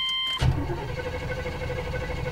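A 1993 Chevy Silverado with a fuel-injected engine and hard-starting trouble: as the key turns on, a click is followed by a steady electric hum from the fuel pump priming, continuous and close without cranking.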